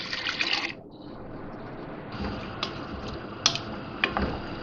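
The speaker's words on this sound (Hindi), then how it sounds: "पानी डाल रही हूँ इसमें।" Water pours from a vessel into a cooking pot of vegetables on a stove, a continuous close splashing fill with a few light clinks against the pot.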